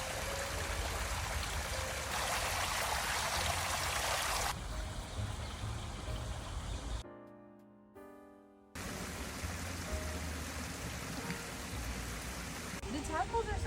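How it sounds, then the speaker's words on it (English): A waterfall fountain in a botanical garden in Rome gives a steady, soft rush of falling water, broken by a short dip partway through, with quiet talking in the background. "They had this incredible waterfall fountain"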